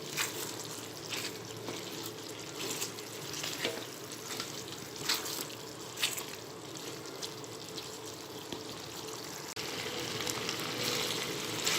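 Chopped green chillies frying in a pan of mutton nihari masala make a steady, close crackling sizzle with faint stirring scrapes, continuous and without any talk.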